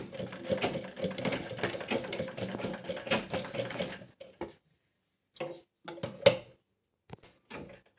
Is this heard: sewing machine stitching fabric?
yes